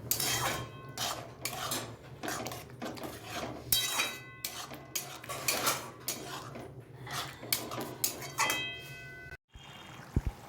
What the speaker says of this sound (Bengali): নাড়াচাড়ার মধ্যে রেখে হলুদের গুঁড়ো ভালো করে মিশিয়ে নিচ্ছি